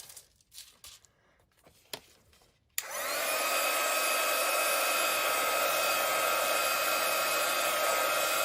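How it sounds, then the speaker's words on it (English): Heat gun warming glue on a handmade card: a steady, loud blowing roar that starts abruptly after a few soft handling noises and continues without a break. "you can heat it up with your heat gun, which I might try and do just to speed up the process"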